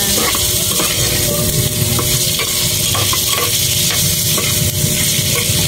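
Chicken pieces fry loudly in a pan while a utensil stirs them, producing repeated scraping strokes over a constant close sizzle with no voices.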